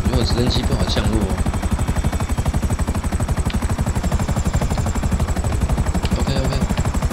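Helicopter in the video game GTA5 flying in to land, a loud steady rotor chop with rapid beating thuds throughout, with brief voices in the background.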